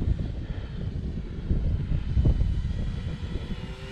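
An Avios Grand Tundra RC model airplane flies a quick high-speed pass, its steady motor drone rising in loudness toward the middle and then easing slightly, with no talking.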